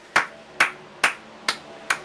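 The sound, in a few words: simulated audience applause in a racing broadcast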